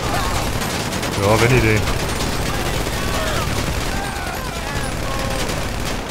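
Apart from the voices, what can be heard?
gunfire from the video game GTA Online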